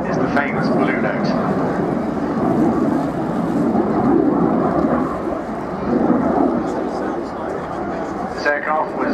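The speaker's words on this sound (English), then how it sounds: "the one synonymous with the Hunter is the famous Blue Note" A Hawker Hunter jet, the Blue Note, roars past at an air display, a steady loud broadband rush that swells and fades slightly, with an announcer talking over it.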